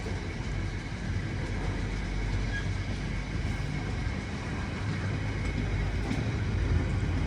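A laden freight train passes at Harringay Green Lanes using sanders, giving a loud continuous rumble and roar that holds steady throughout with no pauses.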